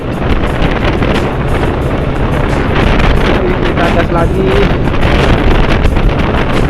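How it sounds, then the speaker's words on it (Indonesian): Strong, steady wind roars across the microphone while a Vario 125 motorcycle rides near Suramadu toward Madura, loud and continuous, with someone talking under it. "Dan angin anginnya lumayan kenceng ya, daerah Suramadu nih"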